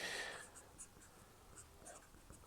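A pen scratching out a short note on paper during a math lesson, soft quick strokes that are faint and close, with a brief louder scrape at the start.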